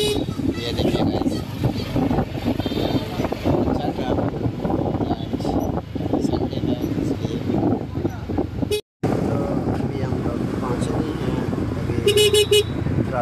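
Busy Indian city road traffic rumbles continuously with engine noise and wind, with short car horn toots near the end, while people talk nearby.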